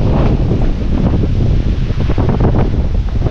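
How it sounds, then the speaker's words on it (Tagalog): Strong wind buffets the microphone in a constant loud roar, gusting unevenly with no voices. "Grabe lakas ang hangin."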